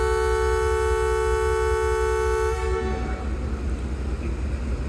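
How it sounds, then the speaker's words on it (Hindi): The Karachi Express sounds a loud, sustained departure horn at a foggy Lahore station; the tone holds for nearly three seconds, then cuts off into rumbling train and station noise as it begins to move. "डिपार्चर हॉर्न हो गया और मूव होना शुरू कर दिया है।"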